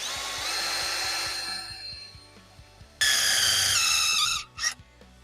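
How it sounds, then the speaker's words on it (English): A power drill whines at high pitch, winds down, then bites in again loudly for over a second, drilling a small hole in a Pontiac Fiero throttle body, before stopping with a brief final burst. "I'm going to drill a small hole in there"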